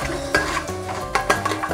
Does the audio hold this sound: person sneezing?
no